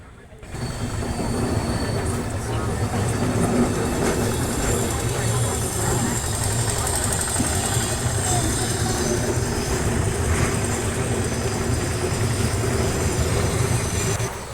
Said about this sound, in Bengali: ট্রেনটা এখন বেনারসি ঢুকছে